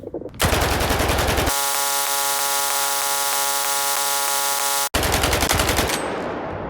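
Rapid automatic gunfire from a weapon in S.T.A.L.K.E.R. 2, loud continuous bursts with a steady mechanical buzzing stretch in the middle, then firing resumes until the end.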